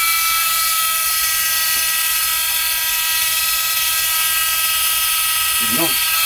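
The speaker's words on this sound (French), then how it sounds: "Ça, c'est le ventilateur" Steady, loud whirring drone of a PS4 console's cooling fan running hard, constant throughout, with a brief voice near the end.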